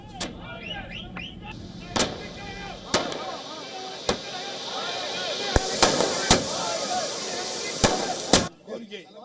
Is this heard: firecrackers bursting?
yes